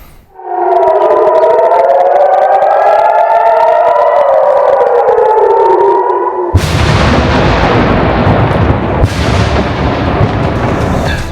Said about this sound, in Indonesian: Hampir setiap 10 menit sekali sirine berbunyi, pertanda mereka harus segera berlari ke tempat perlindungan.